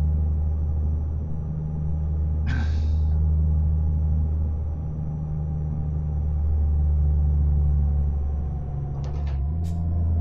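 Truck engine in Euro Truck Simulator 2 straining uphill, a loud steady low rumble with slow swells in pitch and a couple of brief higher clicks over it.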